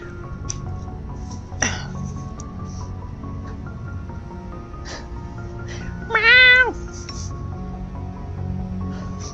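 A cat meows twice, the first short and the second longer and rising, under a low background hum.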